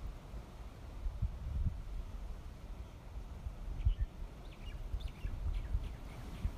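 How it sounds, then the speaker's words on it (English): Tropical birds chirp faintly from palm trees on Maui, scattered calls over a steady low background with no talking. "There's a little tropical bird song coming from the palm trees."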